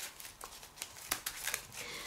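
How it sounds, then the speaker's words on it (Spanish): A deck of game cards for the Marvel Champions board game being shuffled, a quiet run of soft riffling flutters and light card snaps at close range, with no talking. "terminamos de barajar"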